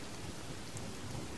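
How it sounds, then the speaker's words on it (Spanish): Steady rain hisses in the video game The Forest, a dense continuous wash with a low rumble underneath. "Y ahora llueve"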